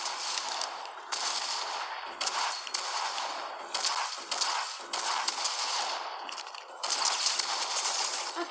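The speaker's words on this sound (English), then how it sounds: "I think that's the pump shotgun." A pump shotgun firing in the video game Fortnite: a run of sharp, bright, loud blasts spaced about a second apart, each with a short ringing tail.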